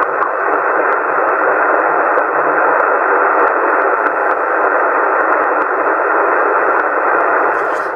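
Weak CB radio signal received over a WebSDR receiver, heard as a steady wash of loud hiss and static with faint, buried traces of a distant voice and occasional small clicks.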